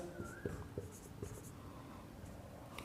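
Pen or pencil scratching on paper during a maths lesson, a few quick taps and strokes close up, with a faint voice in the background.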